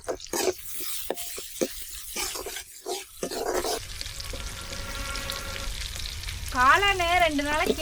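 Mustard seeds and urad dal frying in hot oil for a mushroom curry, a close sizzle and crackle that rises and steadies, with a brief animal yelp in the background near the end.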